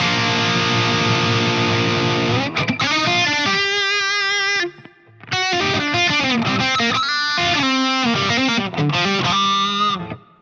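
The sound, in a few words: electric guitar with reverb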